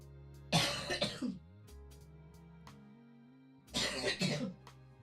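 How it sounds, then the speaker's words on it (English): Two bursts of harsh coughing, close and loud, separated by a short quiet pause with a faint low hum. "I just need to cough"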